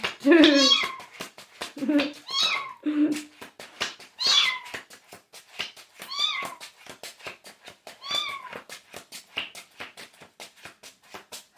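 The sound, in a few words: cat meowing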